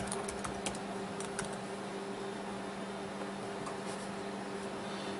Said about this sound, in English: And then you got to type in your password.